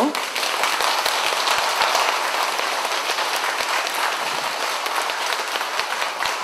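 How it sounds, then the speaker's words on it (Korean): Sustained applause from an audience at a women's college health lecture in Busan, dense even clapping throughout with a speaker's voice faintly mixed in. "여러분들 박수를 크게 쳐서"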